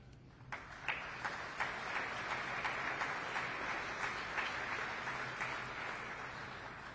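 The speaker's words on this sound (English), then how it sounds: "A round of applause for them for that" Steady applause from a crowd gathered in Pittsfield to celebrate federal funding for the Berkshire Family YMCA, heard at a distance as a sustained wash of clapping with a few sharper claps standing out.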